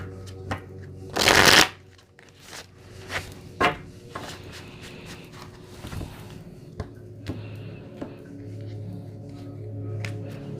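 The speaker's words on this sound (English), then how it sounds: "So we're going to get 4 cards from the Untold Messages of the Heart by Aqua Moonlight" A deck of oracle cards is shuffled close by in one loud riffling burst, followed by quieter taps and handling sounds over a low background hum.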